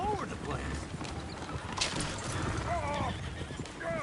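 Horses in a video game whinny with rising, wavering neighs over a steady clatter of hooves, with some mechanical clicking, and the neighs repeat near the end.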